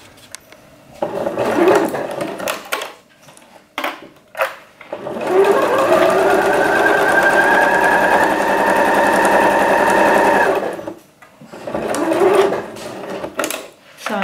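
A sewing machine stitches a Papercut Patterns Sapporo coat, first in short stop-start bursts, then in one long steady run before returning to brief bursts, close up and clear.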